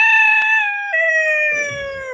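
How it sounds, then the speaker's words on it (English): Three roosters crowing at once, long overlapping stretched calls that ring out loud and close, layered together without any talking. "I've got 3 roosters deciding that they would like to crow at the same time"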